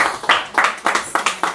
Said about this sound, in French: On applaudit le Seigneur ce matin